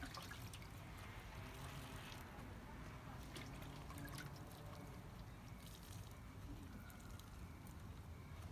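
Water trickling and dribbling steadily while a window track is rinsed out, a continuous low wet splashing with small drips and taps, close and fairly quiet.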